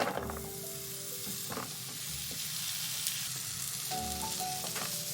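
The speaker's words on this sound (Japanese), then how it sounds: "フライパンにオリーブオイルを熱して紅芯大根とウインナーを加えて炒め" Red-core radish and sausage stir-fry in hot olive oil in a frying pan, a steady close sizzle with a few scraping stirs and light clinks of a utensil against the pan.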